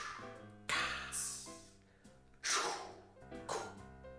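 A voice imitating a honk, close and fairly loud, three breathy nasal blasts spaced about a second apart, each dropping off quickly.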